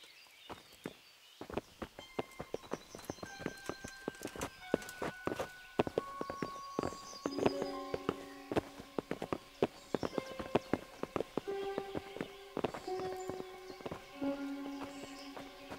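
Horses' hooves clip-clopping on the ground in the medieval video game Kingdom Come: Deliverance, a continuous, fairly quiet run of walking steps with soft musical tones over it.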